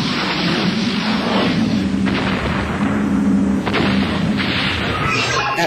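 A nuclear warhead detonates in a science-fiction space battle, producing a loud, continuous roaring rumble with a few sharper booming bursts rising out of it.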